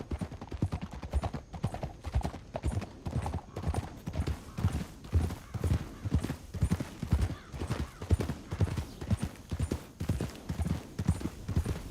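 Horse hooves clip-clop in a steady, rhythmic trot on hard ground in the Red Dead Redemption 2 video game, close and continuous for around twelve seconds.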